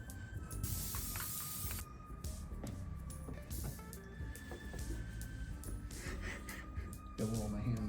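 Spray glue hissing from a can onto foam for a homemade CRT TV head, quiet bursts of aerosol spray starting and stopping in short spurts over faint background noise.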